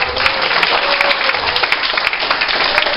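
A church fellowship congregation claps loudly and continuously, a thick, close roar of hands that holds steady throughout without pause or voices.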